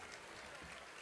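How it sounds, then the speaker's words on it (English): A crowd gives a big round of applause for speaker Mike Eaglin at an evening event, a steady, uniform wash of clapping that fills the whole moment without any break. "Big round of applause for Mike."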